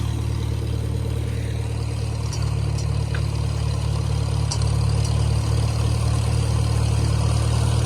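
A farm tractor engine fitted with a belt-driven hydraulic pump kit rumbles at a loud, steady idle close by, swelling slightly partway through, with no voices.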